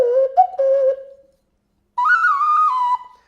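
A double-ended clay ocarina, a fixed whistle flute, plays two clear sustained notes close up: a lower note with a brief upward blip, a pause, then a higher, slightly wavering note that fades out. No voices.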